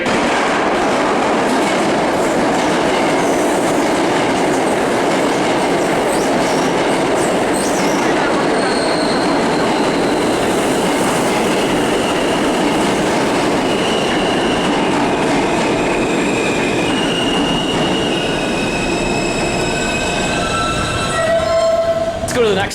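A New York City subway R train bound for Forest Hills-71st Avenue rumbles steadily along the track with a continuous roar, faint rhythmic clatter, and rising metallic whines near the end.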